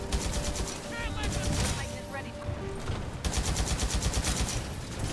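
Rapid bursts of video-game gunfire in the Titan shooter Titanfall 2, loud and repeated in quick volleys with brief pauses, mixed with in-game effects and a voice speaking over part of it.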